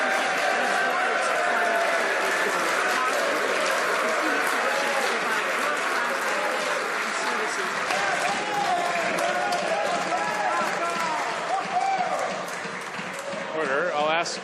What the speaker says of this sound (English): I'll ask members to hold off on their applause until the member for Renfrew is finished.